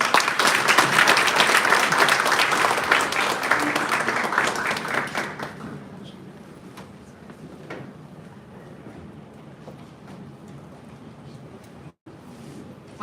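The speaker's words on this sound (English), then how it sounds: "let's give a warm round of applause for Father Seb" A seated audience applauds warmly, dense clapping for several seconds that thins out into scattered claps, then fades into a quiet room with occasional small knocks and shuffles.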